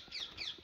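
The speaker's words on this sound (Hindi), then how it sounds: "ब्यूटीफुल है यार फॉरेस्ट, शांत वातावरण, पंछियों की चहचहाट" Birds chirping in the Gir forest of Gir National Park, a brief burst of thin high calls repeating quickly, faint and close together with no talk.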